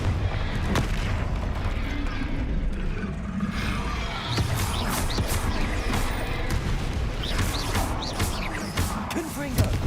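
Repeated explosive spell blasts in a fantasy wizard video game, loud booming impacts and crashes following one another rapidly over dense, busy combat noise, with a voice speaking over them.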